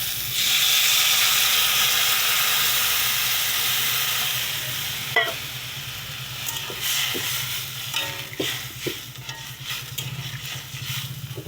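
Loud, steady sizzling hiss as water hits a hot frying pan of fried bitter gourd, gradually settling into crackling bubbles with occasional clinks of a utensil stirring.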